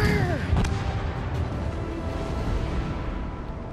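Main guns of the battleship Mikasa fire in World of Warships: Legends, a loud booming blast followed by a long rumbling roar that slowly fades.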